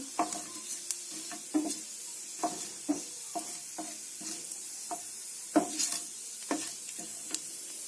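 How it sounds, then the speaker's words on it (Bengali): Cumin seeds lightly frying in a pan at the start of a Bengali mixed vegetable fry: a steady close sizzle broken by regular spatula scrapes and taps roughly every half second, with no talking. "হালকা ফ্রাই করে নেব।"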